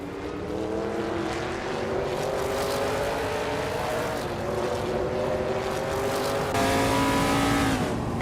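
A Plymouth Roadrunner race car engine drones steadily through a race, its pitch rising and falling with gear changes amid other engine noise, loud and continuous with no talking.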